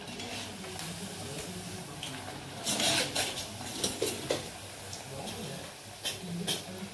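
Fried kothimbir wadi, crispy coriander fritters, lifted out of hot frying oil, with steady sizzling and clinks of utensils against the pan while someone talks throughout.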